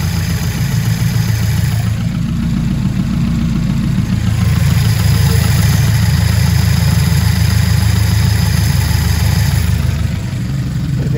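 A carburetted car engine idles at low rpm, around 500, with a steady deep rumble that holds an even, loud drone throughout without voices.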